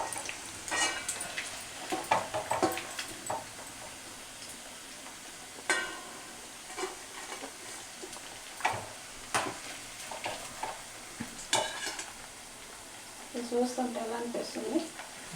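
Chicken pieces for Chicken Manchurian sizzle in hot oil, a soft continuous frying hiss broken by scattered spoon stirs and clinks, with a person talking at intervals over the cooking.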